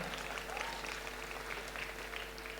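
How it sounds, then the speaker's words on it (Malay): Audience applause at a university student awards ceremony is heard as a faint, continuous patter of clapping from a large hall crowd, with no gaps. "Tepuk tangan pada USM."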